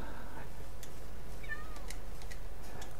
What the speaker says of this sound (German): Wir haben Katzen, wir haben Katzen.